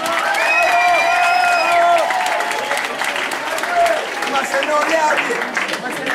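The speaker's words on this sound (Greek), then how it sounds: "αν κρίνω από το χειροκρότημα των μαθητών" Students in an audience clapping and cheering at a music event in Filiatra, loud sustained applause with crowd voices, and a sustained tonal sound near the start.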